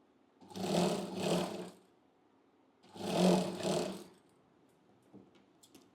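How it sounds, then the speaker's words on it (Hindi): A sewing machine stitching a blouse runs in two separate bursts of about a second each, with a close, whirring mechanical drone and quiet pauses between them. "इसके लिए मैंने इसको सीधा सिलाई लगाया, फिर हम इसको उल्टा सिलाई लगा देंगे"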